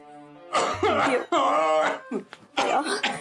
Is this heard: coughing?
yes